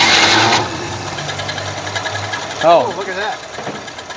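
A 1957 Chevy engine that has sat in storage runs rough while warming up with the choke open, a steady close mechanical rattle under brief talk and a loud burst of voices near the end.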